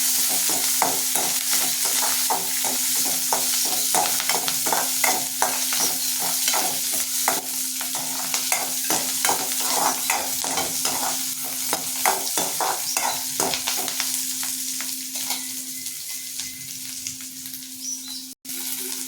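Sliced shallots sauté in a pan for a wedding-style okra pachadi, a continuous loud sizzle broken by frequent stirring scrapes, with no talking.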